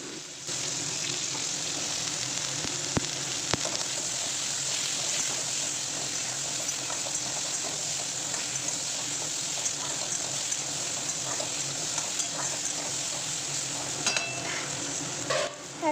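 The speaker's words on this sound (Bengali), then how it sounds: "ডাঁটাগুলো আমি আলুর সাথে ভালো করে এখন ভেজে নেব" Drumstick stems and potatoes frying in a pan with oil, giving a steady, close sizzle and occasional stirring scrapes that run without pause for the full length, with no voices.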